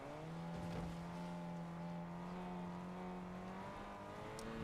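A car engine in the Fortnite video game holds a steady droning tone at a fairly constant pitch, rising slightly near the end, quiet and alone.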